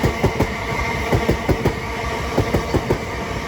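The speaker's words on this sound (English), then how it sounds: "As also passing will be a southeastern pair of 375s bound for Hastings from London Charing Cross" A pair of Southeastern Class 375 electric trains rolls past New Cross on the South Eastern Main Line, close and loud, with a steady rhythmic clickety-clack of wheels over rail joints above a continuous rumble.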